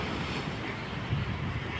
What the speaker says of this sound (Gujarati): જોઉં મોજા આવી રહ્યા છે ઝીણા એવા